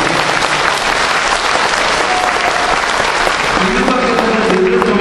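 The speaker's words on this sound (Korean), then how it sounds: "여기에도 박수를 보내주시면" Loud, sustained applause from a lecture audience at a Daejeon event denouncing Kim Jong-il fills the whole stretch as a dense, steady wash of many hands, with a faint voice emerging toward the end.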